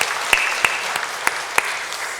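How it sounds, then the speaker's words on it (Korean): Congregation applause at a Sunday daytime church service: a sustained patter of many hands clapping, punctuated by a few sharper claps, fairly close and steady for the whole stretch with no talking. "박수로 격려하겠습니다."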